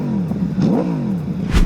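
An Aprilia 210 V4 Factory motorcycle engine revs up loud and close, rising and falling through quick throttle blips in a short burst.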